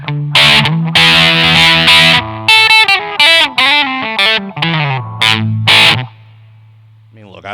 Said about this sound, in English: sounds like a pretty typical distortion pedal